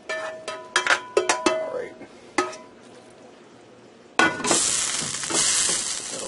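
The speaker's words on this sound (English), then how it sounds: "I'm going to go ahead and dump my hamburger mixture in there" A hamburger mixture is dumped into a hot pan on a stove burner, setting off a loud, broad sizzle that holds steady. Before it come a few sharp clinks and scrapes, and a voice speaks briefly.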